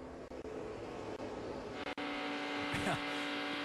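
Race cars run three wide in a stock car race, engine drone holding steady with a passing sweep near the end, while a commentator talks over it.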